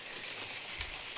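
Sudden morning rain falls as a steady, soft, close hiss of drops on surfaces.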